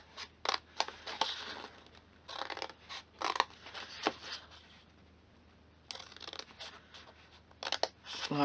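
Scissors snip through cardstock pieces for a papercraft daisy candle box, giving quiet clusters of short crisp cuts with brief pauses between them and no talking.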